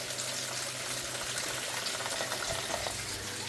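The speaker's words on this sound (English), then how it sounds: "I'm going to just manually turn the pump back on so we can get some water. Let it flow through a bit" Water pumped through the pipes of an NFT hydroponic strawberry system rushes and gushes steadily, loud and close, a continuous watery hiss with a faint low hum beneath.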